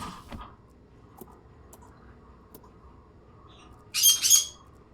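Pet birds kept indoors give a few sparse soft chirps and ticks, then a short loud burst of bright calls near the end, close by with no talking.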